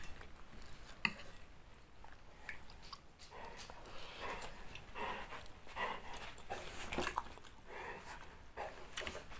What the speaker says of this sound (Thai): เสียงหมา